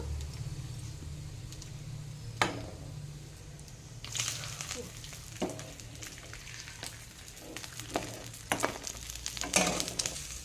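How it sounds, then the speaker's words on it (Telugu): Bommidi fish frying in a pan: soft continuous sizzle under a low hum, with scattered sharp pops and crackles that grow busier in the second half, fairly quiet and close. "ఫస్ట్ మనము బొమ్మిడి చేపలు వేయించుకుందాం"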